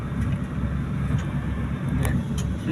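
Road traffic in Ragay, Camarines Sur rumbles steadily as cars and other vehicles pass nearby, with a constant low engine drone and a few brief higher hisses, no voices.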